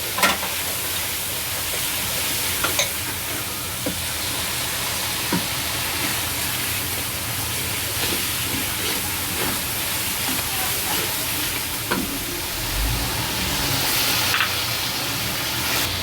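Tadka sizzles in a pan for chana pulao after a splash of water goes in, a continuous loud hiss and crackle with scattered pops, with voices faintly present.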